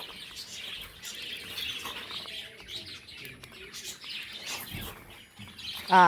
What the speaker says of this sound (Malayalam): നല്ല നോയ്സ് ഉണ്ട്, കാരണം കിളി ഭയങ്കര അലമ്പാണ്.